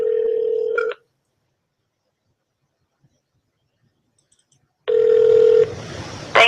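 Electronic telephone tones sound in two bursts separated by several seconds of silence while a call to an aerospace company's operator is placed, close and clear, with no one talking.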